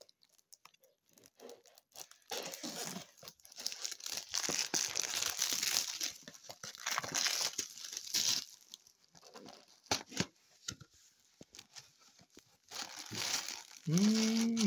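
Packet of Sri Lankan black tea bags being opened, close crinkling and tearing of wrapping in bursts, fairly quiet, with a brief tonal clink near the end.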